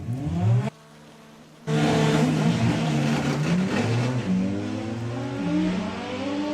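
An Audi drag car launches hard down the strip at Santa Pod during VW drag racing qualifying. The engine roar cuts out abruptly for about a second at a missed gear shift, then returns loud and sustained as the car pulls away.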